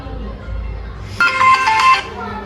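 A mobile phone rings for an incoming call, a short loud burst of bright melodic ringtone notes cutting in after quiet background noise.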